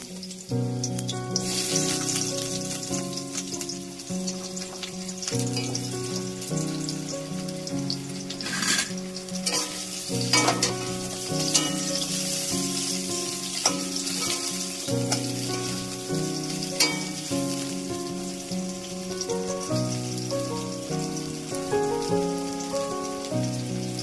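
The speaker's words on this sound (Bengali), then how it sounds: "আলুগুলো একটু লাল করে ভেজে নেবো তেলে।" Potatoes frying in oil with a bay leaf and whole-spice tempering, for a spicy boal fish curry, give a steady sizzle and hiss throughout, partly under prominent melodic background music.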